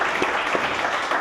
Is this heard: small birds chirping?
no